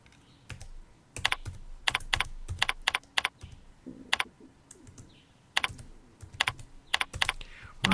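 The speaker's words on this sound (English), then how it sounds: "we're just gonna type in this time" Keystrokes on a computer keyboard while data is entered into payroll software, coming as uneven bursts of close, crisp clicks separated by short pauses, with no speech.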